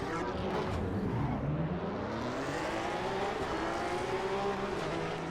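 A Porsche GT3 race car engine revving hard in the Assetto Corsa EVO racing game at Mount Panorama, Bathurst, a loud sustained engine note climbing and holding through gear changes, steady and close with no talk.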